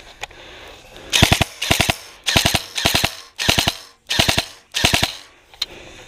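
Airsoft gun firing bursts in the distance during an outdoor skirmish, seven sharp rapid-fire strings of crackling shots separated by short pauses, fairly loud and clear with no talk over them.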